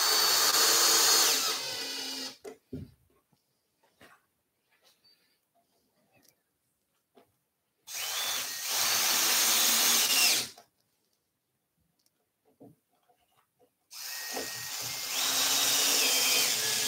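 Power drill driving screws into a wooden Adirondack chair on a workbench, heard as three loud, sustained whirring bursts of a few seconds each, separated by quiet gaps with small knocks and handling sounds.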